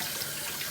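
Chicken and shrimp rinsed under a running kitchen tap: a brief, steady rush of water splashing into a sink, close and continuous.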